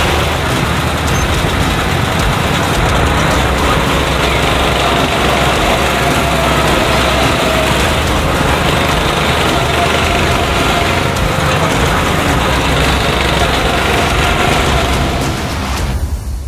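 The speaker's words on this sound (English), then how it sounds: "Go-karting" Go-kart engines running at a Wisconsin Dells track: a loud, constant buzzing engine roar with wind noise throughout, steady and close, ending abruptly.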